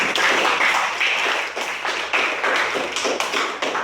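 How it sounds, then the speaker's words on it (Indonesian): A dense burst of audience applause at a nursing students' class presentation session, many hands clapping steadily at close range for about four seconds with no talk over it. "Berikan aplaus bagi semuanya"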